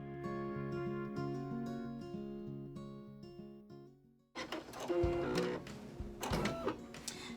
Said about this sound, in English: so we can get the tack down stitch for the pink rows